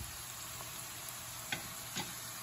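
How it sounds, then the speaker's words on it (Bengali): Gobindobhog rice frying in a pan with onion and potato, a quiet, steady sizzle with a few soft scraping stirs near the end, no talking. "এই সময় আমি গোবিন্দভোগ চালটা দিয়ে ভাজতে শুরু করেছি"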